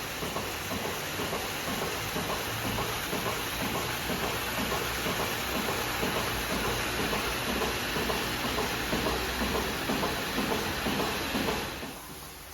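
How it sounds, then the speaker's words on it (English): A GEA 24/48 milking parlour runs its cold wash cycle, a constant loud hiss of rushing water and a rapid mechanical clatter, steady for the whole stretch before easing off near the end. "So it starts with a cold wash. That will be what's happening now."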